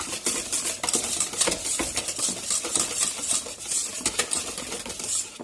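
A spoon or spatula stirring a homemade almond oil body cream in a bowl, giving a steady, close run of scraping and clinking strokes with no talking.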